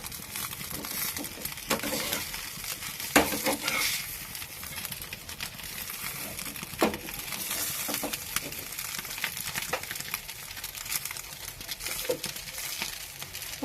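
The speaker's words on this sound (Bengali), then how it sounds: "এবার আমি এই ডিমটাকে এরকমভাবে উল্টে দেব" Egg frying in a pan with oil for a quick breakfast of eggs and instant noodles, a steady close sizzle broken by scraping and tapping as it is flipped and pressed, with no talk.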